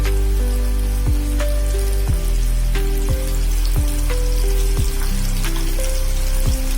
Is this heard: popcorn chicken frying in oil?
yes